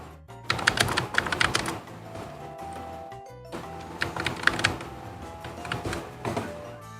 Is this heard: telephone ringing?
no